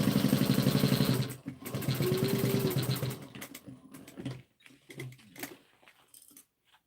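A home sewing machine back stitching a few stitches on fabric, a fast steady mechanical whir with rapid needle chatter for about three seconds, then a pause and a few softer clicks and handling noises up close.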